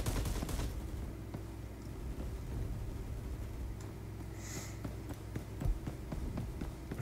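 Rapid assault rifle gunfire from a Roblox Phantom Forces match rattles steadily through the whole stretch, dense and continuous with a few sharper cracks and a brief high whine midway.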